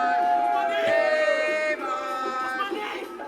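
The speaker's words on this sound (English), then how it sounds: "And you can hear the crowd." A crowd at an underground pro wrestling show in Portsmouth, Virginia, cheers and shouts in a steady, fairly distant roar, with sustained yells rising above the general noise.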